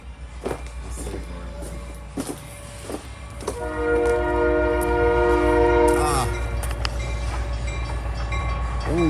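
The Skunk Train rolls past with clattering wheels and a steady rumble, then sounds a long, loud multi-tone horn blast that stops abruptly, followed by continued rolling noise.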